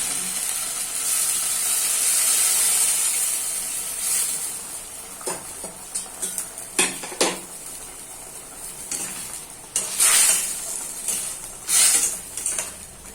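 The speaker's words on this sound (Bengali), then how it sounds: "একটু জল দিয়ে দেবো, গরম জল করেছি, গরম জল" Hot water poured into a pan of aloo posto (potatoes in poppy seed paste) sets off a loud, steady sizzle and steam hiss. It then breaks into scattered crackles and spoon-on-pan clatters, close up, with no voices.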